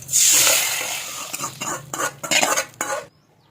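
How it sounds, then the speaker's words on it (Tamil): Fried tempering for sambar is poured into a pot of cooked lentils, giving a loud initial hiss and splash, then several stirring, clinking bursts of spoon against pot before falling quiet. "இந்த தாளிச்சதை எடுத்து இதில் ஊற்றிடலாம். நம்ம பருப்பு வேக வச்சுருக்கோம் இல்லையா, அதில் ஊற்றிடலாம்."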